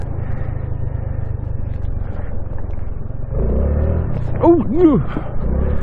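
A Honda Navi motorcycle drifts on a snowy hard-pack road, its small engine droning steadily, then swelling louder partway through. A rider's voice whoops briefly over the engine.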